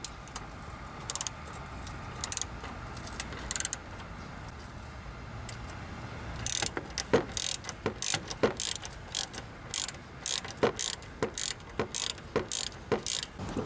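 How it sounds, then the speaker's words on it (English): A hand ratchet tightens two bolts on the engine coolant pipe of a 2009-2013 Toyota Corolla, with steady quick clicking under a low background hum that grows into sharper, more spaced ratchet strokes. "Tighten up these two bolts."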